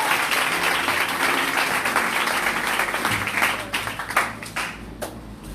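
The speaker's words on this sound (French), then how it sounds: "Acclamons le Seigneur Jésus-Christ" A church congregation applauding during a French-language sermon, with sustained, dense clapping from many hands that fills the room and then thins out toward the end.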